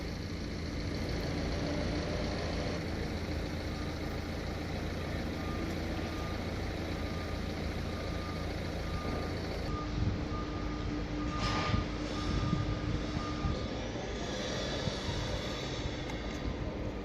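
Lorries near a stadium construction site, a faint, evenly spaced reversing beep repeating over a steady, distant engine and traffic rumble, with no talking.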